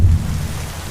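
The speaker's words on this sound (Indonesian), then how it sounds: "Lagi hujan deras di sini" Heavy rain pounds a tent pitched on a mountain, a dense, steady roar with a deeper rumble at the start that may be thunder. It is loud and close, with no voices.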